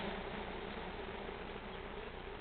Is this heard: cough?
no